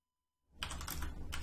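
Quick, close typing on a computer keyboard as sample text is entered, a dense run of key clicks starting abruptly after a moment of silence and continuing steadily.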